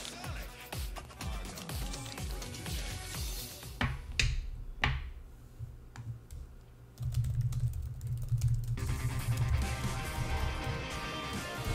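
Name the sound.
typing on a computer keyboard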